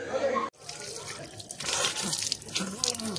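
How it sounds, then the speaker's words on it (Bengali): Tap water runs continuously into a sink as someone washes their face, splashing and trickling close by, briefly cut off near the start, with voices talking over the running water. "এখন মুখটা ধুয়ে আসি কল থেকে"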